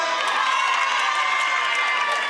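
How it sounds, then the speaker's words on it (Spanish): Spectators at an aquarium show cheer and clap for a girl, a dense crowd roar with children's shouts and whoops layered over scattered applause, steady and loud throughout. "¡Un fuerte aplauso para ella, señorita!"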